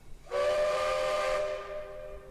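A steam train whistle sounds in one long, loud, steady blast of about two seconds, with rich harmonic tones and an airy hiss. It fades slightly at the end and plays alone with no voices.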